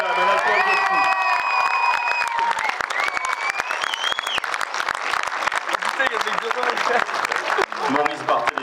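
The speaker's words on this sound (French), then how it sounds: "s'il vous plaît, messieurs, dames, un applaudissement" A theatre audience applauds loudly for comedians taking the stage in Le Mans, with dense, steady clapping mixed with cheers and whoops throughout.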